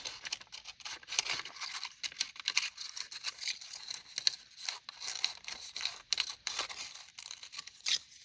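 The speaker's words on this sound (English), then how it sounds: "You're going to cut a little seam till you cut the seam of the cupcake liner till you get to the center." Scissors snip through a paper cupcake liner up close in a quiet room, short crisp cuts and crinkles coming in irregular bursts with brief pauses between, no one talking.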